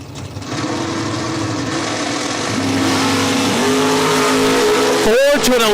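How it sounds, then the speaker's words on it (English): Drag race cars launch down the strip at the Spring Fling event, engines roaring loud and sustained with rising revs, then a sharp pitch sweep near the end as a car passes; an announcer's voice runs over it. "we got a drag race"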